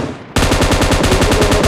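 Automatic gunfire in the video game PUBG Mobile: after a brief quiet moment, a loud, rapid, evenly spaced burst of shots runs without a break to the end.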